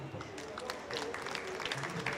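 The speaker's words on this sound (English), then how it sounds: "please send a huge round of applause for all of them" Audience applause at a pavilion session during the COP 30 climate conference in Belém, Brazil: a steady, moderately loud wash of clapping from a seated crowd, with some murmured voices mixed in.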